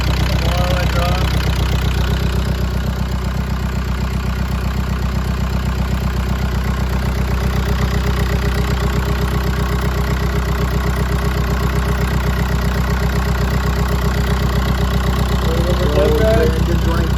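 A Volkswagen PD TDI diesel engine, in a runaway condition and smoking, runs with a steady, loud, dense mechanical clatter that holds unbroken throughout.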